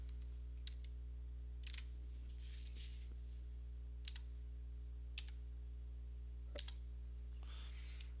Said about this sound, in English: And press Return or Enter on your keyboard.